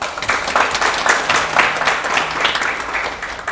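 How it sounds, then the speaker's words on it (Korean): A big round of applause from an audience welcoming a director back to a school event, dense steady clapping close by and fairly loud, with a faint voice underneath. "우리 원장님 큰 박수로 다시 한번 모시겠습니다."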